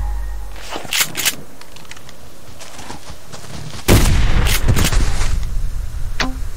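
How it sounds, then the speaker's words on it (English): Rifle shot fired at a bear in the survival game Subsistence, with a few sharp in-game reports, one heavy loud blast near the middle followed by rumbling game ambience. "Thought I almost shot too low."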